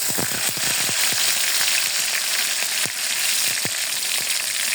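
Ginger and cumin paste hits a hot pan for a spicy chicken curry and sizzles loudly and steadily, with scattered pops and spatters over the continuous frying hiss.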